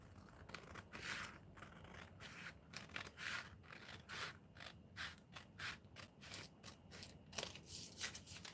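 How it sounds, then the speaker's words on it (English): Scissors trimming paper napkin scraps at the edges of a page, producing a steady series of quiet, close snips and rustling paper cuts in a regular rhythm, with no talking. "I'm just trimming what is out of the edges of my page, nothing more."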